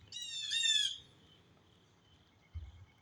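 A bird calls out with a short burst of harmonic, chirping squawks lasting under a second, fairly close, then a faint steady tone and quiet background follow, with a low thump near the end.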